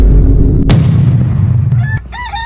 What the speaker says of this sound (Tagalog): Sabaan yung mga manukan eh.